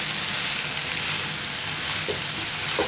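Gongura leaves sauté in a pan for a gongura potato fry, giving a steady, close sizzling hiss that continues evenly throughout with a couple of faint clicks near the end.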